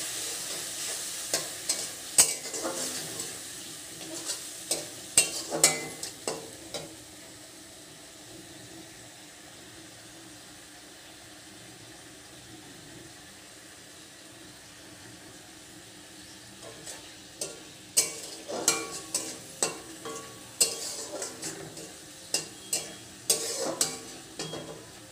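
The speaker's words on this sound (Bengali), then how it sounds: "মশলাটা ভালোভাবে কষে নেব।" Garlic and cumin paste frying in oil in a pan for a potato fish curry, a soft continuous sizzle broken by clusters of sharp spatula scrapes and clinks, quieter in the middle stretch.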